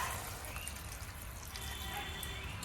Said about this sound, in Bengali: এখন পরিমাণ মতো একটু জল দিয়ে দেবো।